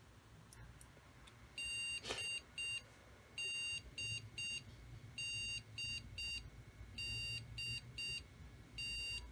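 A computer motherboard powered on with its RAM module removed emits its BIOS beep code, a series of loud, evenly repeated electronic beeps in regular bursts over a low background hum, with no speech.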